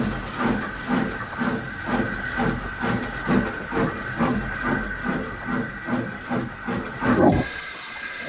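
A steam locomotive in the Trainz game hisses and chuffs in a steady, rhythmic pulse, with a final burst of steam at the end.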